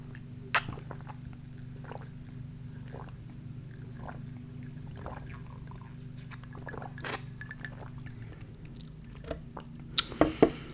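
Soft close-up chewing of a mini Crumbl cookie, with faint scattered bites and mouth sounds over a low steady hum, ending in a few sharper crunchy clicks.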